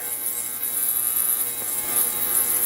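A washing machine runs with a continuous mechanical hum and whir, steady and even with no talk.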